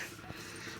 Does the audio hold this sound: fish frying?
no